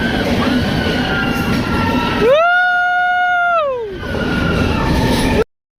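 Passenger train running at speed on the Araku line: a loud, steady rumble of wheels on track, interrupted midway by a sustained tonal whistle or horn-like squeal before the rolling noise resumes.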